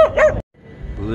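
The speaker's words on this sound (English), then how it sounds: "just barking dogs" Dogs bark in a short loud burst at a school bus festival, then go quiet before low background noise returns.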